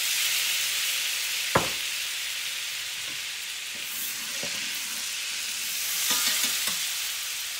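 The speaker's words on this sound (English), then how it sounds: "And then to that I'm going to add my stick of butter." A stick of butter melts in a skillet over the leftovers of a family dinner dish, giving a steady close sizzle broken by a sharp clink and a few soft stirring taps, with no talking.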